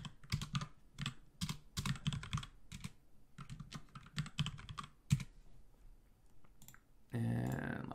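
A password goes in on a computer keyboard in rapid clusters of sharp, close key clicks with short pauses between, and a brief burst of noise comes at the very end.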